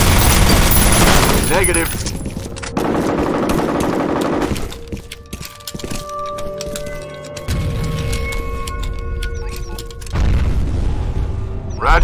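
Gunfire and a heavy grenade blast in the shooter game F.E.A.R., with loud booming bursts and rapid shots near the start and end, a short spoken radio line in between.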